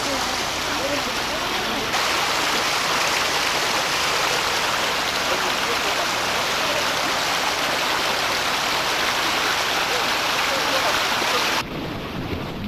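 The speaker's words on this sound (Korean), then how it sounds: "만년설이 녹아서 이렇게 실폭포를 만들고" A thin waterfall fed by melting permanent snow near Queenstown, New Zealand, pours with a loud, steady, close broadband rush that holds unbroken for about ten seconds, then drops off abruptly.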